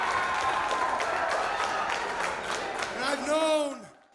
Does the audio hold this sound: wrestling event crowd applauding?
yes